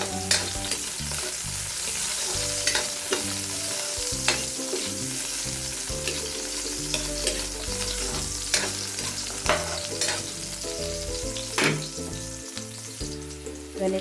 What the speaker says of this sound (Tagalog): ilagay na natin ang sibuyas